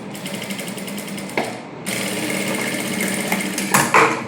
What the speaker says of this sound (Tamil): கழுத்தில் நம்ம ஒரு தையல் போட போகிறோம் சுற்றி